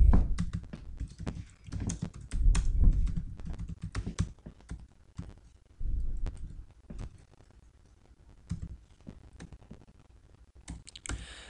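Typing on a computer keyboard while writing a script in Notepad: irregular bursts of close, crisp key clicks with short pauses between flurries, no talking.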